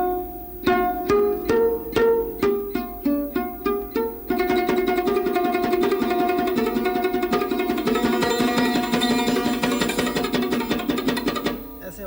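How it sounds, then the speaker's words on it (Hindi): A sarod plucked with the fingertips instead of the nails gives a run of muffled, damped notes, first spaced and separate and then a faster, denser stream of strokes near the player. "पोटे से बजाएं, फिंगर टिप से, तो आवाज़ बंद आती है।"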